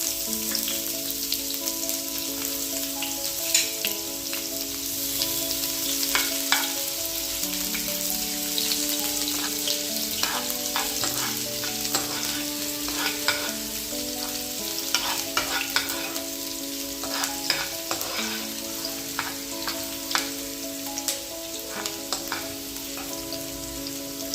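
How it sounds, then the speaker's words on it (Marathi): Chopped onion frying with garlic in a pan hisses in a steady, close sizzle, with occasional clicks and stirring scrapes over the continuous crackle. "लसण छानपैकी तळून झालं की यामध्ये आपल्याला कट केलेला कांदा टाकायचा आहे"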